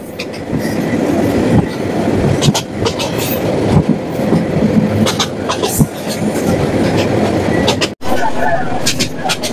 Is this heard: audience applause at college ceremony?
no